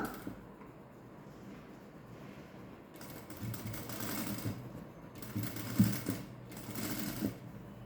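A sewing machine stitches a potli button design onto a blouse, its motor whirring in steady bursts that start after a quiet opening and stop and start again, close and fairly loud.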